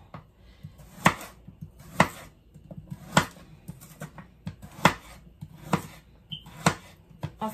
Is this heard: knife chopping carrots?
yes